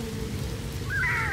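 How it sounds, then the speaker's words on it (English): Soft, steady rain patters on a roof in the space survival game No Man's Sky, a faint close wash of drops with a brief rising tone near the end. "Love that sound of the rain on the roof."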